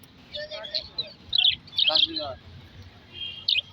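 Small caged birds chirp and tweet in short, bright, scattered bursts at a Dhaka bird market selling pigeons, mynas and parakeets, close by over a low murmur of background noise.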